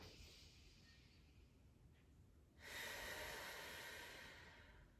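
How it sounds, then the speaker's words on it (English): Slow, deep diaphragmatic breathing during a guided relaxation exercise: a quiet, airy draw of breath followed by a louder, fuller exhale that swells in the second half and fades, with no talking. "This is called diaphragmatic breathing."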